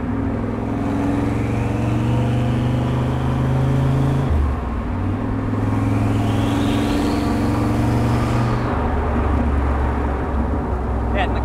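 A Corvette engine idles steadily while warming up, a loud continuous low rumble with the pitch shifting a couple of times as revs change, and no voices over it.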